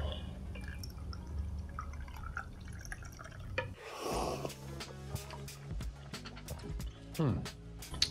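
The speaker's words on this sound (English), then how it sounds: "Now I'm gonna pour myself a cup." AeroPress-brewed Ethiopian natural coffee is poured from a batch vessel into a cup, a short liquid pour followed by drips and light clinks of the cup nearby.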